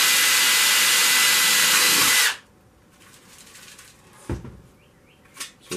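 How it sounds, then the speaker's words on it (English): A power drill bores a drainage hole in a dried gourd being made into a birdhouse, a loud steady whirring burst lasting about two seconds that cuts off abruptly, followed by quieter handling clicks and knocks. "then I'll drill a hole there because water's going to run to your lowest point."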